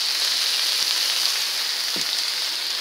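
Home fries seasoned with cayenne pepper sizzle in a covered pan, a steady, loud frying hiss throughout with a couple of faint low knocks.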